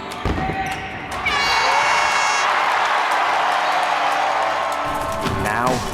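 A packed home crowd cheers at a Dixie State Trailblazers basketball game, a loud, steady roar carried along with whistles and a horn blast. Sneaker squeaks and bounces come through at the start and near the end.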